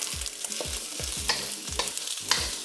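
Fried rice in a wok is tossed and scraped in a regular rhythm of about five sweeping strokes over a steady sizzle, close and fairly loud.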